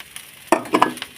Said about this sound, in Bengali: এই সবজিগুলো আমার ভাজা ভাজা হয়ে গেছে এরপরে আমি ভাতটা এখানে অ্যাড করে দেবো